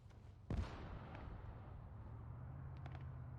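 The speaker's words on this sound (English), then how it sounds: "Oh, another explosion goes off." A single explosion, likely a thrown satchel charge, booms in an urban firefight in a milsim video game, a sharp loud blast followed by a sustained low rumble and distant battle noise.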